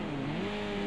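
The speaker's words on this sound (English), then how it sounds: "You can hear how the engine revs just drop as they come over that, the edge of the bridge" A touring car engine in a racing video game at the Bannochbrae circuit drones steadily as the revs fall away while cresting the edge of a bridge, a dense continuous roar with tire noise and no talking.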